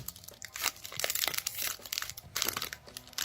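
The crinkly plastic wrapper of a Magic: The Gathering booster pack is torn open, giving rapid, close crackles and crunches in uneven bursts over a few seconds.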